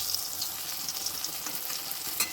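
Steady crackling sizzle of fish frying in hot oil, close up, with faint scraping stirs and no voices.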